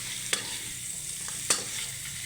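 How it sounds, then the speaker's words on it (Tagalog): Food frying in a pan with a steady sizzle, stirred with two sharp utensil scrapes against the pan, close and alone. "Ug atong ukayon."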